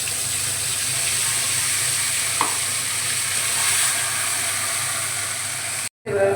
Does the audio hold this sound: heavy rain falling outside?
no